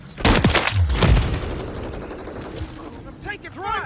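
Rapid gunfire bursts ring out in a Domination match of a first-person shooter, loud at first and then fading into a rumbling echo, with voice chatter underneath.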